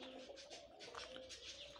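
Pigeons or doves cooing on a farm, a close, steady run of soft low coos overlapping with chirps, heard alone without talk.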